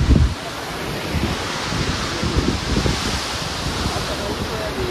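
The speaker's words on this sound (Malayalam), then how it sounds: "ഭയങ്കര കാറ്റാട്ടോ അവിടെ" Strong wind roaring across an open hilltop during a jeep off-road trip at Kolukkumalai, a steady broadband rush with a loud buffeting gust at the start, under faint voices.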